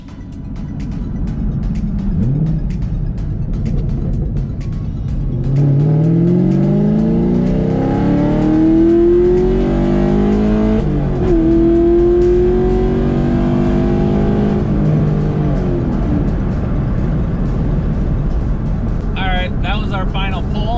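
Chevrolet Camaro fitted with a VelossaTech Big Mouth ram air intake accelerating hard on a run, engine note climbing in rising sweeps with a brief lift and shift midway, loud and close throughout, with a short burst of talk near the end.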